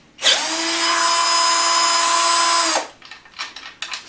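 A powerful tool removing screws on a Peugeot Elyseo 50 scooter whines loudly and steadily for about two and a half seconds, then stops, leaving faint clicks and rattles.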